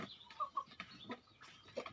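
A Kadaknath black chicken clucks in a short run of soft, distinct clucks and a brief higher call, heard close and fairly quiet with no talking.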